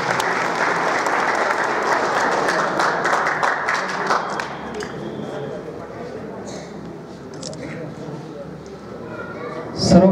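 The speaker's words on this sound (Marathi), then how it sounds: "त्यांच्यासाठी टाळ्या वाजवा." An audience applauds at a public ceremony, loud sustained clapping for about four seconds that then thins out under background chatter and talk.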